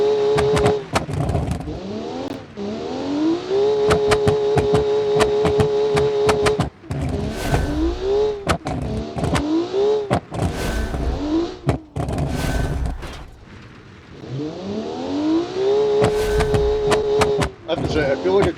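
A race car repeatedly revs and accelerates off a ramp during a showcase heat, its engine note climbing and dropping in cycles over clattering track noise, with people talking throughout.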